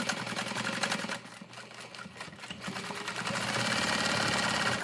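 A sewing machine back stitches a pouch, its rapid mechanical whir running close and steady, dipping briefly as the stitching reverses before resuming at full speed.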